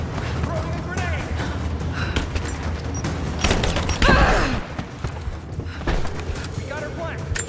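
Rise of the Tomb Raider combat: gunfire crackles in bursts while a grenade blast booms midway, loud against soldiers shouting throughout.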